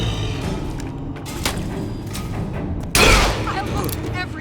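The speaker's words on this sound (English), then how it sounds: "Fireworks everywhere." Fireworks bursting in BioShock Infinite, a steady rumble of distant booms and thuds building to one loud, bright crackling explosion near the end, with scattered crackle trailing after.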